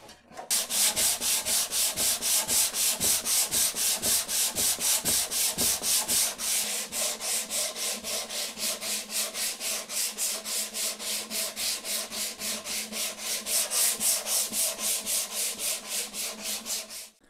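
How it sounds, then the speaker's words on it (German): Sandpaper rubbed by hand along the edges of a wooden seed box, a steady back-and-forth scratching in even strokes that continues for the whole stretch, close and fairly loud with no talking. "ich schleife das jetzt Ganze noch einmal. Also die ganzen Ränder"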